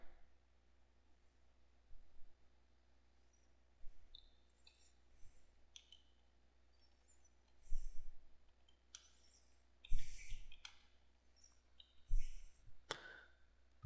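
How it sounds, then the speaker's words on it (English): A computer mouse clicks faintly while an image is edited to add a watermark, giving a scattered series of sharp little clicks, some in quick pairs, against near silence. "let's click over here"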